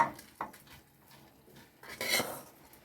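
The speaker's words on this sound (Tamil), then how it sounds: "நான் அரிசியை போட்டுக்கிறேன்." Rice tipped into a pot for chicken biryani at home, giving a brief rattling clatter of grains and metal near the start and a louder scraping spill near the end, with a quiet kitchen in between.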